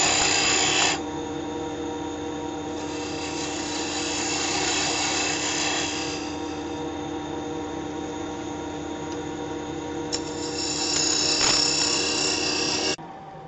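Woodturning tool cutting a cross-grain wooden box on a lathe, a steady loud scraping rasp that runs nearly continuously, easing slightly mid-cut and stopping abruptly at the end.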